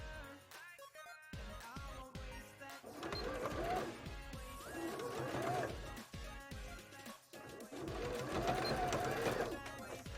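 A sewing machine stitches a seam again on a handmade jellyfish bra, giving a rapid clattering run under voices and other background sound.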